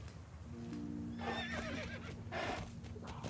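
A horse in the Star Stable video game gives a clear neigh over steady clip-clopping hooves and a low droning tone, moderately loud with no talking.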